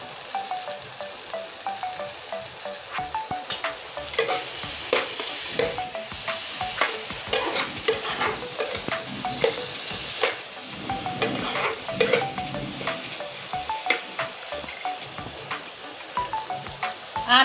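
Tomato, green chili and capsicum fry in a pan with a steady close sizzle and frequent rhythmic scraping and stirring strokes, no talk.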